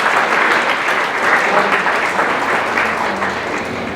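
Audience applause at a national education conference inauguration at a college, a dense, steady wash of many hands clapping, loud and sustained without speech.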